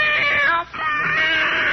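A cat sound effect from a 1948 radio comedy show gives a loud, drawn-out wailing meow, then a brief pause and a second sustained yowl, heard on its own without talk.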